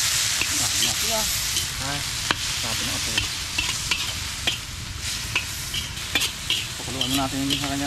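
Chicken pieces sizzle and fry in a hot pan over an open fire, a steady loud hiss with crackles and occasional stirring scrapes, with faint talk in the background.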